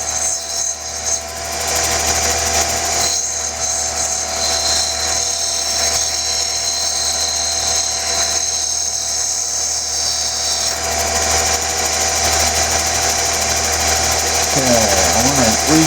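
A lapidary grinding wheel runs continuously while shaping the face of a stone, giving a steady, loud whining grind throughout, and a voice talks over it.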